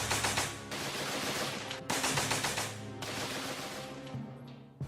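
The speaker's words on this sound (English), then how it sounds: "They would sweep the machine guns from side to side across the battlefield." A military machine gun fires in rapid rattling bursts, three long strings of shots close and loud, each followed by a brief pause.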